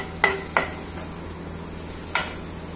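Upma drying in a pan on high flame, a few sharp spoon scrapes and clinks over a soft, steady sizzle, close by.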